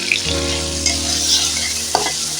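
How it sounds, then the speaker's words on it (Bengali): Food for a fig and snail curry sizzles loudly in a pan with turmeric just added, a dense close hiss with a couple of quick stirring scrapes and no voices. "এটা দিয়ে অল্প কিছু সময় নাড়বো এক দুবার নেড়ে জল দিয়ে দেবো"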